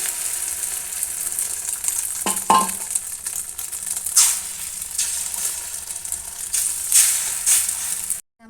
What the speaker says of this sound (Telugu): ఇప్పుడైతే నేను గుడ్డు మనం కలుపుకున్నది ఉంది కదా, ఇది దీంట్లో వేసేస్తున్నాను